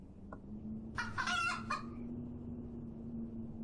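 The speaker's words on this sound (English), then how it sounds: "Something has the hen spooked." A spooked hen gives a short burst of agitated clucking, moderately close, over a steady low hum, then falls quiet.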